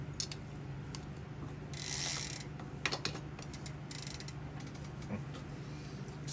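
Pedal wrench tightening the pedals on a Kink Carve 16 BMX bike: quiet ratcheting clicks and metallic creaks in short irregular bursts over a steady low hum, close by and faint.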